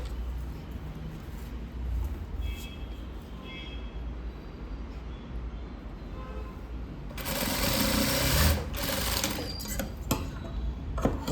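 A sewing machine stitches a short seam on a blouse, with a close, whirring run of a second or two that follows quiet fabric handling and soft background voices at a tailoring class.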